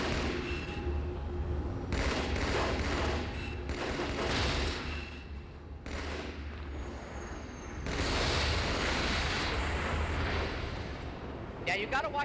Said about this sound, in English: watch as I go to work with the battle rifle, which, so you know, unzoomed fires 3-shot bursts